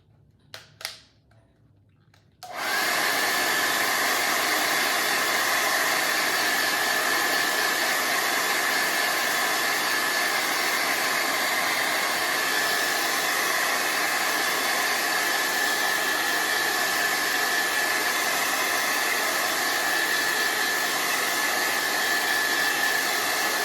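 A hair dryer on a cool setting switches on after a couple of seconds of quiet handling and then roars steadily and loudly at close range, drying a coat of milk paint on furniture.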